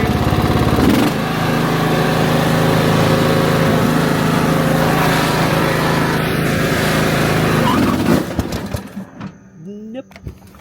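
Troy-Bilt Bronco riding mower chugging along, its small engine droning loud and close at a steady pitch before cutting off near the end, leaving a few thumps and rustles.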